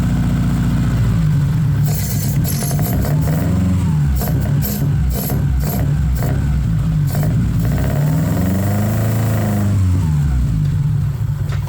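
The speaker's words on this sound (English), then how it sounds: "You wanna put it in gear and see if it'll move?" A Nissan 280Z engine runs loud and close, rumbling and revving in uneven surges as it is put in gear, its pitch rising and falling over a continuous roar.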